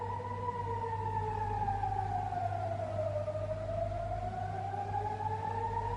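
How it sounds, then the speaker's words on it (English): Air raid warning sirens wail in Israel, a steady distant tone slowly falling and rising in pitch over a constant low hum, with no voices. "him hiding in the stairwell as warning sirens blared"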